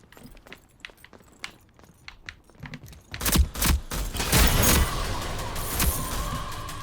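Gunfire from the shooter video game Rogue Company: scattered light taps at first, then loud, dense bursts of automatic fire with heavy thuds, continuing steadily to the end and with no one speaking.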